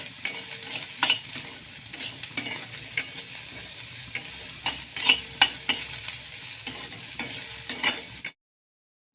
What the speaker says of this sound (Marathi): मी त्याच्यामध्ये कांदा लसूण आणि आलं भाजून घ्यायचं आहे